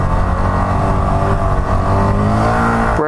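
A Honda Grom motorcycle's small engine drones steadily and loudly close by, its pitch wavering slightly as the clutch and brake are worked, then rising briefly near the end.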